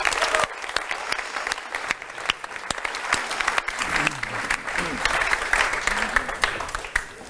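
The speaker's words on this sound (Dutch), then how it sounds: "En dan nu graag een warm applaus voor onze gasten Ed Nijpels, Frank Wassenberg en Liesbeth van" A studio audience at a Dutch political talk show bursts into dense, sustained applause welcoming the guests, with a few voices rising over the clapping in the second half.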